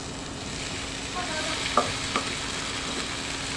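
Boiled jute leaves (pat shak) fry together in a pan until reddish, giving a low steady sizzle with a couple of sharp stirring clicks near the middle.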